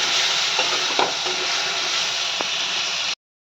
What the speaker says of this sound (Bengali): এটা ভালো করে কষে তেল ছাড়া অবধি আমাকে নাড়তে হবে।